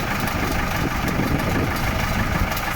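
An Ursus 6824 diesel tractor engine idles close by at -11°C, warming up after a week unused, a steady, unbroken low rumble with an even chugging texture throughout.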